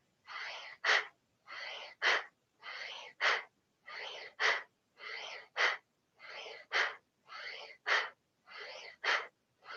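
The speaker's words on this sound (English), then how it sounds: "Now engage Ujjayi breath." Ujjayi breathing in a yoga class: a steady, rhythmic series of about eight audible inhale-exhale cycles, each a soft hissing breath followed by a sharper, louder push, close and alone with no talk.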